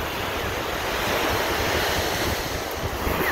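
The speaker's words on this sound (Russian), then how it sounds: "Волны сегодня более-менее нормальные, не очень сильные." Ocean surf washing onto a sunny Sunny Isles beach, steady and close, with moderate waves rolling in under a constant rush of wind noise.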